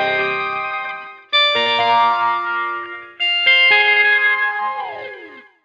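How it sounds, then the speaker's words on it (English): Electric guitar run through a harmony octave-up effect with a Phase 90 phaser and delay gives shimmering, swirling chords. Three strummed phrases ring out with long echoing tails, played alone. "I am using the harmony octave up and the phase 90 engaged with some delay"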